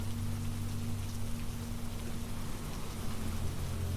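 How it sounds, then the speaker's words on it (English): Steady rain pours down, a dense even hiss of drops with a low rumble underneath, no voices. "The rain drifts between soft and heavy, each drop finding its place on your skin"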